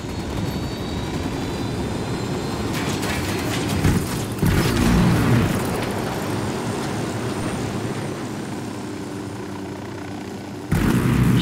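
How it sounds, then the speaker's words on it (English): Rumbling helicopter rotor noise in the video game Ghost Recon Wildlands swells and shifts amid bursts of louder sound, steady throughout with abrupt changes in level. "Helicopter, get down!"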